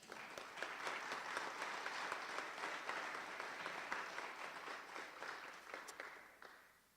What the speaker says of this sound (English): I think we should give ourselves a round of applause